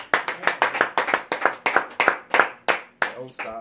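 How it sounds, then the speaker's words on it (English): Rhythmic group hand clapping from a church congregation, loud and close, steady beat of sharp claps with a brief voice near the end. "Let's give God a hand clap for the word today."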